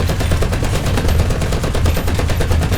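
Sustained .50 caliber machine gun fire from a tank in War Thunder, a rapid unbroken stream of loud, heavy reports running the whole stretch with no pauses.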